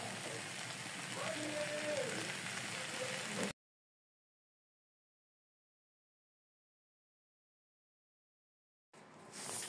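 A spiced mixture fries in a pan with a dense, rain-like sizzle for about three and a half seconds. Then it cuts to silence before a faint sizzle returns at the very end.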